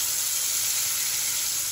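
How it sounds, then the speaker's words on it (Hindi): Raw banana fritters frying one by one in hot oil, a steady, dense sizzling hiss that carries on without pause. "एक एक करके इसको फ्राई कर देंगे"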